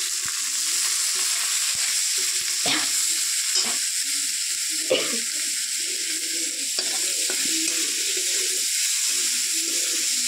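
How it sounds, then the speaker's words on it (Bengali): Small puti fish frying with onion greens, salt and a little turmeric, stirred in the pan: a constant close hiss of frying with irregular scraping stirs breaking through, and nobody speaking. "নুন, অল্প একটু হলুদ, ভালো করে নাড়াচাড়া করে নেবো।"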